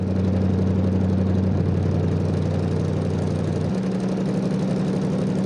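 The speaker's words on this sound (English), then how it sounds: "Okay, so the idle on this is choppy." A twin compound turbo V8 swapped into a Yugo idles in the BeamNG driving game. The steady, choppy idle shifts pitch slightly partway through, and no one speaks over it.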